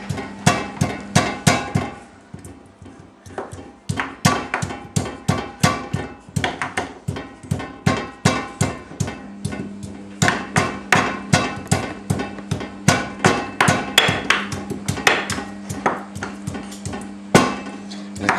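Food being pounded with a hammer in a home kitchen, a long run of sharp, loud, close thuds in quick irregular bursts with brief pauses between.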